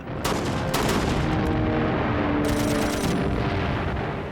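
Rifle and machine gun fire during the D-Day beach assault in a war documentary: sustained, dense gunfire with repeated sharp bursts and a continuous loud rumble of battle, without speech.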